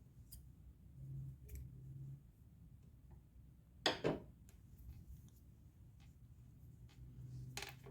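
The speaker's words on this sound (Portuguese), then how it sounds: "já trabalhei aqui os 7 centímetros, fiz uma correntinha e vou cortar meu fio" Scissors snipping crochet yarn after a finished chain, one quick crisp cut near the middle with faint handling clicks around it, close and quiet.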